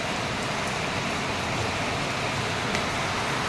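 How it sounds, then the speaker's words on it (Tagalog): Heavy rain pours down in a steady, loud hiss, an unbroken wash of falling water with faint traffic noise beneath it and no voices. "Ito, lakas ng ulan, no?"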